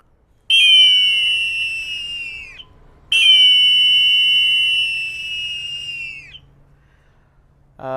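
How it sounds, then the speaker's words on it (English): Two long, piercing blasts from a triple eagle whistle, three whistles in one, with a layered, chord-like tone, each held for a couple of seconds and tapering off, loud and close. "This is an eagle whistle, you can see. And it's a triple whistle."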